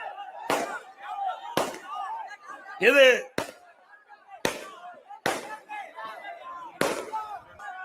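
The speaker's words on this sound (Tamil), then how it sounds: "எதுக்குப்பா பட்டாசு வைக்கிறீங்கப்பா?" Around six sharp firecracker bangs, set off by party supporters at a political rally, go off at irregular intervals, loud and close, while a man gives a speech between the blasts.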